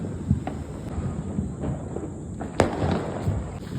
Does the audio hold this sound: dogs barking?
no